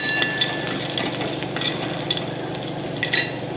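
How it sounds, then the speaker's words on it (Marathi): Chopped onion and curry leaves fry in a pan with a steady, loud sizzle and occasional stirring, close by and without talk. "कांदा छान लालसर झालेला आहे"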